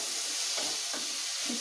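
Onions, cowpeas and drumstick pieces frying in a pan, with a steady bright sizzle and hiss and a few soft scraping stirs of a spoon through the mixture.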